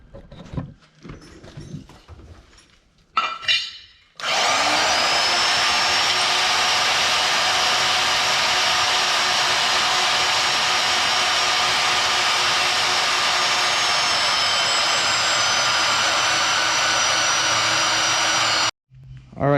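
A power saw cuts through 1/4 inch by 2 inch flat steel stock with a loud, sustained high whine that runs steadily for about fifteen seconds after brief start-up noises, then stops abruptly.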